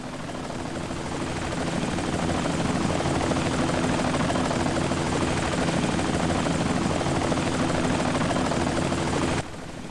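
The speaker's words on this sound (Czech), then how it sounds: "viděli jste, že přiletěla helikoptéra" A helicopter arriving in the Indiana Jones and the Infernal Machine video game, a loud, steady rotor and engine roar that builds over the first seconds, holds constant and then drops away abruptly near the end.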